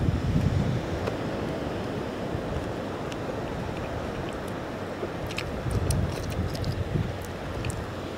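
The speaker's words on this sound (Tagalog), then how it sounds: "Ingay ng dagat." Sea waves on a Philippine shore, a steady low roar of surf with gusty wind noise on the microphone and a couple of swelling surges, no talk.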